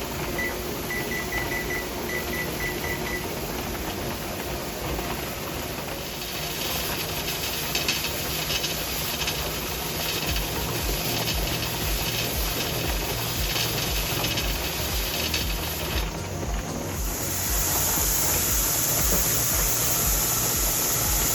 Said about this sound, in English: The pot has been venting steam for 10 minutes from the vent pipe.